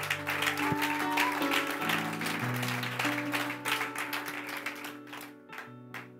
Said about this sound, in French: Si on peut acclamer, on acclame bien.